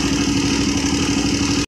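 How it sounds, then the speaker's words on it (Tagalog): Suzuki Raider 150 engine with a faulty tensioner, a steady close mechanical rattle over the running engine that cuts off abruptly. "Yan yung palatandaan na tensioner yung problema ng makina niyo."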